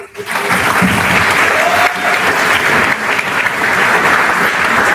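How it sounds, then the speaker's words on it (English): At a school athletic awards event, the audience applauds absent coaches with loud, close, sustained clapping that starts abruptly and holds steady to the end. "So out of respect, we'll give them a round of applause"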